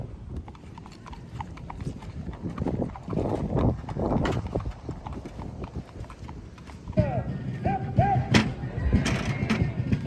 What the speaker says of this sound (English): The horse was being a little bit sassy,